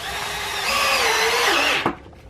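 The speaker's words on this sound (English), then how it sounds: "you're going to want to take your handy dandy drill, you're going to want to put a screw on it" A handheld power drill drives a screw down the middle of a small homemade mini skateboard, a loud steady whine that rises in pitch and ends with a sharp thunk as the screw seats.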